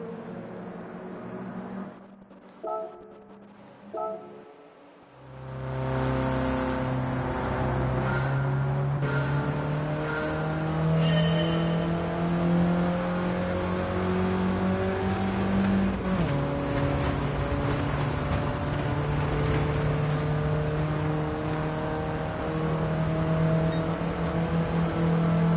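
Racing car engine in Gran Turismo 7 building steadily as it accelerates, a loud sustained drone climbing in pitch with a brief dip as it shifts, heard alone after a few short bursts at the start.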